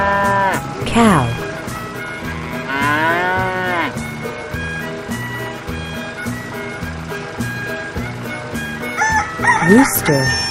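A rooster crows on a farm amid a dense mix of other barnyard animal calls, including cattle mooing, with musical background throughout and a second rising crow near the end.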